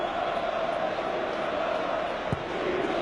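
Sheffield Wednesday fans behind the goal in a stadium make a continuous crowd roar and murmur at a distance, with one brief sharp bang partway through.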